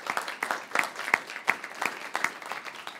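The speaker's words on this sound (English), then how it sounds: "A big round of applause for all of them." An audience claps at a panel discussion on reauthorizing the U.S. Export-Import Bank, with a brisk, even round of hand claps at moderate distance, dense and continuous for a few seconds.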